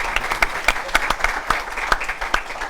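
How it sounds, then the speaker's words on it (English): A small audience at a university talk claps in sparse, uneven bursts, about a dozen sharp distinct claps from a few people rather than full applause, close and clear with no talk over them. "Why are you clapping?"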